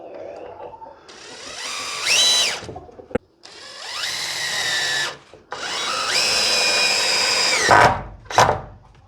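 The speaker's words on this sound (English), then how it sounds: "And then I will just fix it with 1 or 2 screws, and then hopefully it will hold." A power drill drives screws into a wooden ramp in a rabbit hutch, several whining bursts that rise in pitch as each screw bites, separated by short pauses.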